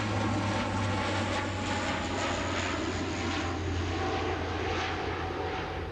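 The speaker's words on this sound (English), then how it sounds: "Plane's coming over here, really low." An airplane passes low overhead outdoors, its engine drone steady and loud throughout, filling the whole stretch with a broad roaring rumble and no voices.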